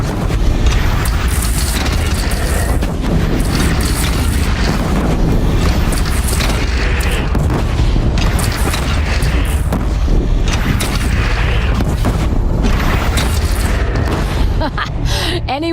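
Cannon fire booms through a loud, dense battle scene in Horizon Zero Dawn, with heavy blasts and rumbling mechanisms continuously layered together at high volume and no clear gaps.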